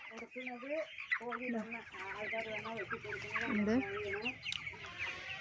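Young chickens cluck continuously at a small poultry farm, many birds calling over one another in a dense, busy chorus close by.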